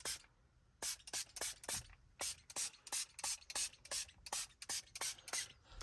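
A pump spray bottle of soapy solution is squirted onto a car's screen in quick, close bursts, about fifteen sharp hissing pumps in an uneven rhythm with brief pauses between them.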